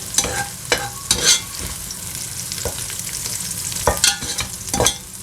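Onions frying in hot oil, a continuous sizzle broken by several scraping clatters of a utensil stirring and scooping them out of the pan.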